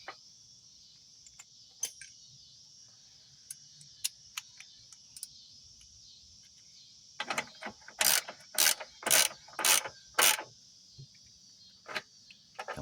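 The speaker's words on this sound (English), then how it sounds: "All you gotta do is tighten these down." Ratchet wrench tightening the battery hold-down bolts on a 2013 Chrysler 200 2.4L, scattered single clicks at first, then a burst of loud rapid ratcheting strokes in a row, close up over a steady high whine.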